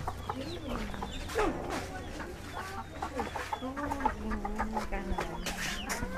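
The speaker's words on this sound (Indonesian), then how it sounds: "Wow, ayam." Chickens clucking on a farm, several birds giving overlapping clucks and rising squawks throughout, fairly close and continuous, with faint background voices.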